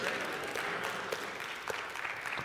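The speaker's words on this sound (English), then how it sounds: "stand up and clap your hands and say," A church congregation in St. Louis claps hands during morning worship, a continuous crowded patter of applause at moderate distance with scattered louder claps.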